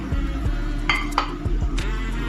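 Chopped capsicum gets stirred in a cooking pan, with a few sharp clinks of a utensil against metal over a steady low kitchen hum and light sizzle, close by.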